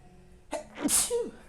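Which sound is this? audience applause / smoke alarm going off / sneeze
sneeze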